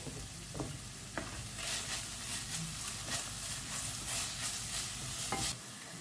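Onion with ginger garlic paste fries in a pan for a Goan clam dish, a low steady sizzle under frequent stirring clicks and scrapes of a spoon, quiet and close.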